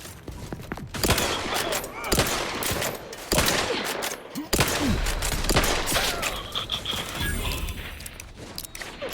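Loud bursts of rapid gunfire in The Outer Worlds, repeated volleys and automatic fire with short gaps between them, sharp and close, over a busy combat background.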